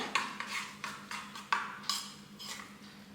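A spoon stirs salt and black salt into finely chopped green chilli in a home kitchen, giving a steady run of close, light scraping and clinking strokes against the bowl with no talking.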